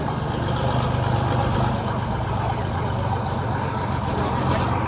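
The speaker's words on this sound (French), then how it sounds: "Ils sont en train de démarrer un gros 4x4." A big Mercedes 4x4 off-road vehicle at an adventure-vehicle show has its engine running, a steady, loud, rumbling idle with broadband roar held throughout and no voices.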